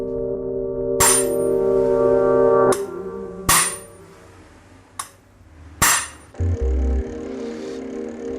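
A cold chisel, a steel bar with a flattened, sharpened end, struck by a hammer to cut metal: five loud, sharp blows at uneven intervals, each leaving a ringing metallic tone that lingers.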